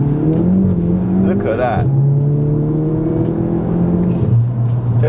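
A BMW M135i with its 3-litre engine and traction control switched off accelerates hard, the revs climbing and dropping through gear changes, loud from inside the cabin with a short spoken remark.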